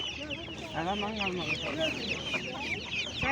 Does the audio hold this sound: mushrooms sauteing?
no